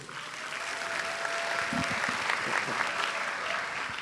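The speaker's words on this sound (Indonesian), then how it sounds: "Kita berikan tepuk tangan sekali lagi untuk Leonard" Audience applause at a campus student ambassador session during a university festival, a steady wash of many hands clapping that fills the room, with a faint voice briefly heard underneath.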